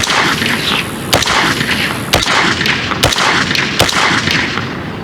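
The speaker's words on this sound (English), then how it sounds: "Subsonic running good out of a 16-inch barrel with no suppressor." Four sharp, loud unsuppressed gunshots from a .300 AAC Blackout AR-15 with a 16-inch barrel firing subsonic rounds, spaced about a second apart, each a hard crack over steady outdoor background noise.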